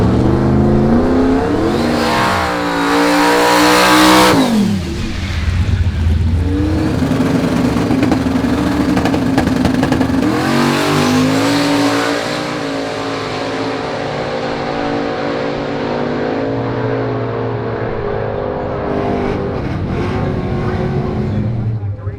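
A drag race car makes a test pass. The engine is loud and close, rising in repeated revving sweeps through the gears, then settles into a sustained roar that slowly fades toward the end.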